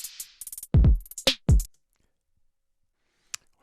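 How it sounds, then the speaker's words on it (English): A reversed slice of a beat, with short clipped hits followed by swelling, backward-sounding bursts that cut off abruptly, then near silence with one faint click at the end. "I'm going to take this middle slice here and I'm going to hit the reverse button."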